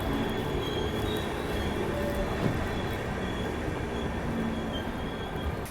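Dehradun Express arriving at Bayana Junction, a continuous loud rumble of train wheels on rails with a faint squeal, heard from aboard with no talk.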